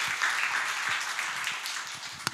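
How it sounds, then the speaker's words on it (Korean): A conference audience at a regional startup summit in Korea applauds a speaker coming on, a faint, continuous patter of many hands in a hall. "박수 부탁드립니다."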